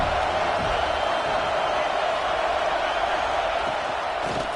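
Stadium crowd at a college football game, Washington against USC, a dense steady roar filling the whole clip with no distinct cheers standing out.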